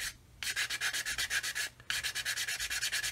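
A sanding stick rubbed briskly back and forth over a plastic scale model kit, giving a steady run of quick, raspy strokes at close range with one short pause partway through, and no voices.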